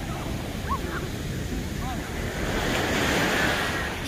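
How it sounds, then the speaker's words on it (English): Ocean surf washes steadily on a beach, a continuous broad roar mixed with wind buffeting the microphone, with brief faint vocal sounds over it. "Y'all hear the ocean?"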